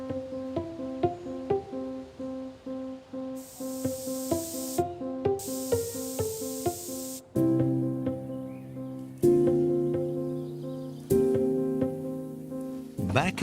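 Spray paint hisses onto a unicycle part in a barn workshop, two long, steady, close bursts of hissing over soft background music, with no talk.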